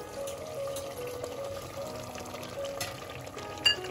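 Yogurt poured into a pan of mutton liver curry cooking with onion paste, giving a steady, close pouring and sizzling wash with a small clatter near the end.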